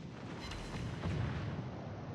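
Battleship guns boom in a naval video game battle involving the Izmail and Montecuccoli, a dense rumbling barrage with a couple of sharper blasts rolling over one another continuously, with no voices.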